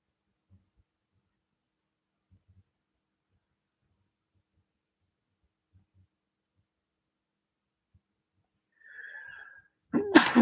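A person with allergies sneezes once, a sharp, loud burst near the end after a long near-silent stretch, preceded by a brief breathy sound just before it.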